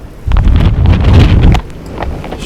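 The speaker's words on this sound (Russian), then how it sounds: "Смотрите, какой ветер." Strong spring wind buffets the microphone outdoors, a loud rumbling roar that swells for about a second before easing to a lighter gusty rush, with no talking.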